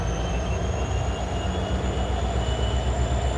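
Norfolk Southern locomotive 1102 rolling past trackside, a steady loud rumble of wheels and engine with a faint high whine carried throughout, close and continuous.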